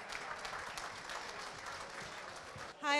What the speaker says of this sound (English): Give her a nice round of applause.